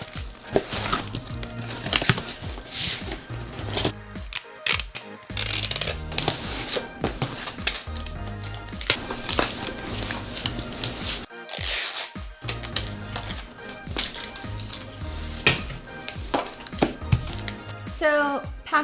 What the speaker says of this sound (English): we're just going to tape this up.